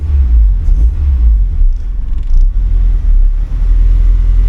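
Car engine idling and revving with Hunter Tuned budget injectors, warmed up, a loud deep steady rumble with slight throttle variations, close to the mic and alone without talk.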